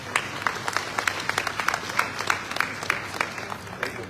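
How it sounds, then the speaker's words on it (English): Applause from the audience at the Lagos indigenous people's summit, with many distinct sharp hand claps in an uneven, fairly loud patter and no speech on top. "Can we give them a big round of applause?"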